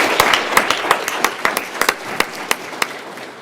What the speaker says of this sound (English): If we could have a round of applause for our principals and assistant principals.